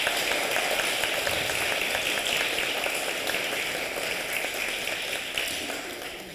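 A room of guests at the DeKalb Public Health 100-year celebration applauds staff volunteers, a steady, dense wash of clapping that holds at an even level throughout with no voices over it.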